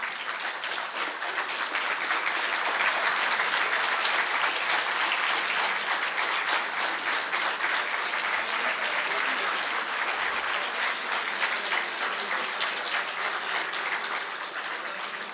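A convocation audience at a university in Peshawar applauds steadily for graduates' parents, loud, dense clapping that fills the hall without a break, with no voices over it.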